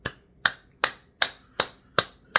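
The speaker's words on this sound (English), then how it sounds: "I'm going to clap for you right now" Hands clap seven times in a slow, steady rhythm, each sharp clap close and loud with a short decay, and no talking.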